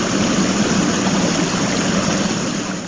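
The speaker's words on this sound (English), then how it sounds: "the gurgling of a brook" Steady broadband rushing and gurgling of water from a flowing brook, continuous and fairly loud with no voices.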